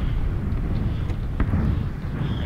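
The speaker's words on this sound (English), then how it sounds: "Like sitting there, I hear explosion." A PUBG explosion lands some distance away as a single muffled boom rising out of a constant low rumble, with no talking.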